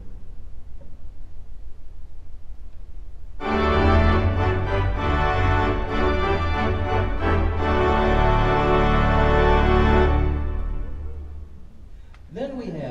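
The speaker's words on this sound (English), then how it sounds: "we can have instantly the sound of the cathedral organ." Wichita Wurlitzer theatre organ on its cathedral organ preset: after a few seconds of low hum, a loud, full sustained chord swells in, holds for about six seconds with shifting voices, then fades away.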